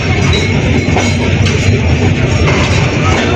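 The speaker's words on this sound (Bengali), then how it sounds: "আমাদের ট্রেন রূপসা এক্সপ্রেস খুলনা অভিমুখী সৈয়দপুর রেলওয়ে স্টেশন ছেড়ে গেল।" The Rupsha Express, bound for Khulna, pulls out of Saidpur railway station with a loud, steady rumble of wheels and carriages and a faint metallic clatter throughout.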